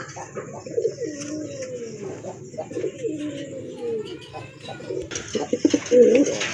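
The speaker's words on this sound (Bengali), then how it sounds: "বিগ সাইজের এক জোড়া কবুতর মার্শাল্লাহ ডাউন শেপের প্লাস আপনার মোটা ঠোঁটের কবুতর" A pair of big, thick-beaked Bombay-type pigeons at a pigeon sale coo in repeated low, rolling phrases, close by, with a few chirps and some background noise.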